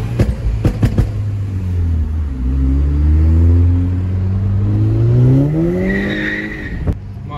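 A VW Golf 5 GTI revs and accelerates hard, its engine note climbing and falling with a few sharp exhaust pops at the start and near the end, loud and close.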